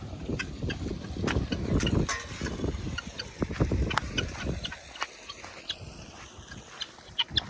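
Chinese chickens squawk and cluck in a busy, overlapping clamor, close by, with some quieter patches toward the end.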